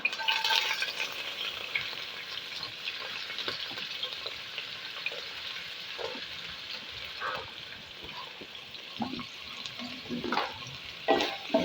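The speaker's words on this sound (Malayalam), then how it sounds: "അതിലേക്ക് ഞാനിത് കട്ട് ചെയ്ത ഉള്ളി ഇട്ട് കൊടുക്കാം" Chopped onion added to hot oil with garlic in a pan, frying for chicken noodles: a steady, even sizzle runs throughout with soft stirring scrapes and light spatters, close and moderately loud, no talking.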